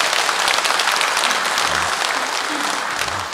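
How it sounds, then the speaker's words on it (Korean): A Catholic congregation applauds to welcome visitors during Sunday Mass, dense, even clapping filling the church throughout, with a few low voices murmuring beneath it. "우리 이분들 환영의 박수를 보내겠습니다"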